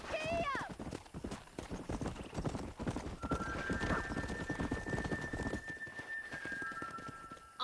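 Horses gallop with rapid, close clip-clopping hooves and a brief whinny in a Red Dead Redemption ride, the hoofbeats continuous and loud throughout, with a sustained tonal whistle layered in partway through.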